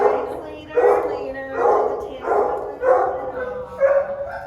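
Dogs at a county animal shelter bark in a run of six evenly spaced, echoing woofs, near and moderately loud, in a hard-walled kennel space.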